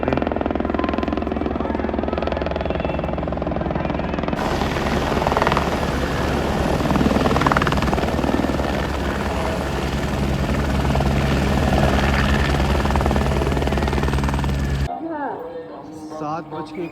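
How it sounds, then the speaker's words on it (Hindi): A morning helicopter flies over the mountain pilgrimage camp at Panchtarni on the Amarnath Yatra route, a loud, steady rotor drone filling the scene for most of the time before cutting off abruptly near the end. "सुबह का पहला हेलीकॉप्टर आ चुका है"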